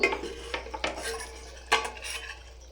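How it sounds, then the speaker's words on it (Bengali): A cooking pot lid lifted during a simmer of achaari chingri masala, with a few metallic clanks and clinks up close over a faint background sizzle. "এবার একটু ঢাকা তুলে দেখে নিই জিনিসটা কতটা মজে এলো।"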